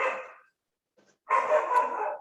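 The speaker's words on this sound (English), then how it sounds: "my dog is screaming like mad" A dog barks in two bursts separated by a short silence, the first fading out and the second louder and sustained, fairly close and with no speech over it.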